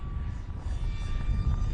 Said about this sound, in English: Some guy's got a drone flying about.